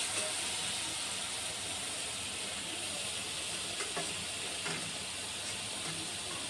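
Spice paste fries in a pan with a steady, even sizzling hiss throughout and a few faint clicks near the end.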